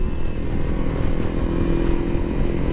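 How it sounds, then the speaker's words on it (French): A small 125cc motorcycle engine drones steadily and buzzes close by, a continuous raspy hum with no pauses, somewhat like a lawn mower. "J'aime bien le son qu'a fait sa petite moto à Dorian avec son pôle, c'est vraiment sympa"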